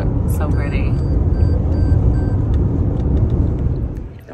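A car on the drive home gives off a steady low road rumble and engine drone throughout, with a person talking over it and a faint brief squeal near the start.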